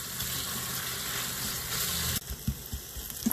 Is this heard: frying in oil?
yes